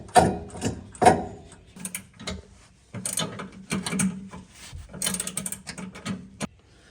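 A ratchet tightening a nut onto a StableLoads bracket on a truck suspension: rapid, close clicking bursts in several short runs, with no talk.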